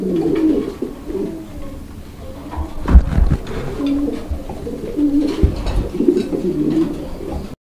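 Fancy pigeons kept for sale coo steadily in low, throaty rolling calls, several birds close by overlapping throughout, with a few brief knocks and thumps from handling mixed in.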